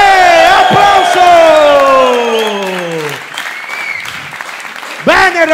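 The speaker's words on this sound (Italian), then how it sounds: "Applauso!" Applause and cheering swell from a stand-up comedy audience in Rome, loud and dense, while the comedian's voice calls out over the crowd and rises again near the end.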